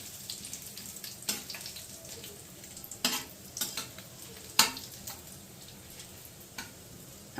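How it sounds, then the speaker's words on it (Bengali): Whole cumin, bay leaf and dried chilli frying in hot oil while being stirred, a low continuous sizzle broken by several sharp scraping and knocking strokes of a utensil against the pan. "গোটা জিরে, তেজপাতা, শুকনো লঙ্কা দিয়ে আমি এটাকে একটুখানি জাস্ট 1 মিনিটের জন্য ভাজা ভাজা করে নেব।"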